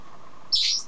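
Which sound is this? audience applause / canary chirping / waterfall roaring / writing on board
canary chirping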